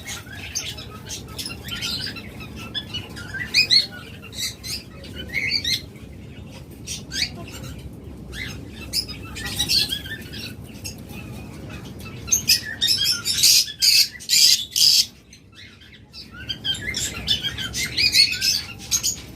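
A blue-mutation pair of locally bred, close-ringed pet birds calling in bursts, with sharp chirps and squawks stacking into dense, loud clusters separated by brief lulls.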